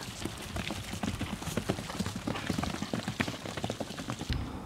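Miniature horse hooves clip-clop steadily on hard ground, a brisk, uneven patter of several steps, fairly close, with no talking.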